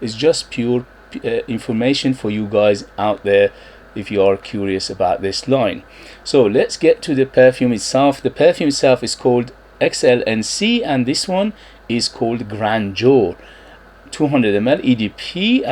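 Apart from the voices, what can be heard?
No everyday noise stands out behind the speech.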